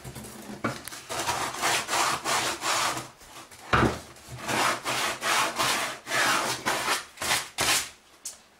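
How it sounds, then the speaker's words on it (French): Wood being sanded with sandpaper to remove burrs on a beehive cover frame, in a steady series of rough back-and-forth rasping strokes, close and fairly loud, with brief pauses between passes. "Un petit coup de papier de verre pour enlever les bavures."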